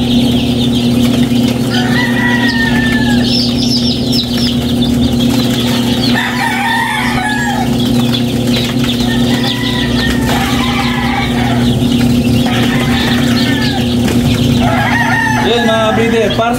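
Chickens and young chicks crowd around a drinker, with overlapping peeping and clucking plus wing flaps above a loud, constant mechanical hum.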